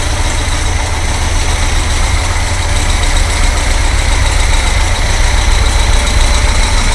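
A Volkswagen air-cooled engine fitted with a new Powerspark distributor idles at a steady tick over, a loud, close, even rumble with a faint regular tapping that runs without a break.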